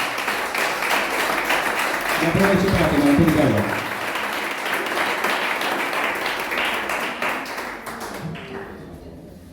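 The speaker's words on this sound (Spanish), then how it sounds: "Denle un aplauso al Señor." A church congregation gives a strong round of applause to the Lord, dense continuous clapping with some thumping, loud and close, while someone speaks over it before it thins out at the end.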